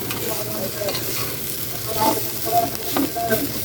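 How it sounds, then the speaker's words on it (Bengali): Sliced bitter gourd fries in oil with a steady, close sizzle and occasional stirring scrapes, while faint voices sit softly underneath. "কড়া কড়া করে ভেজে নেবেন।"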